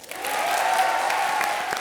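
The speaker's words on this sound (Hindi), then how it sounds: "जोरदार तालियां" Studio audience on a Hindi TV comedy show bursts into applause, a dense, even wash of clapping that swells quickly and holds steady for under two seconds.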